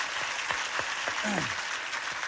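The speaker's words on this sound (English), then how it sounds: "let's give them a nice round of applause" A game show studio audience on Card Sharks applauds the contestants, with a steady wash of clapping and a voice speaking briefly over it.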